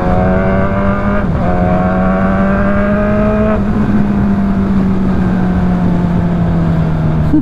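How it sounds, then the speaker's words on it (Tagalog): A Kawasaki Z1000R motorcycle with a full four-two-one exhaust revs loudly up close, its engine note climbing and settling in a steady, sustained drone with a couple of sharp throttle blips. "Hindi ko alam guys kung dinig sa aking vlog yung halak ng ating motor."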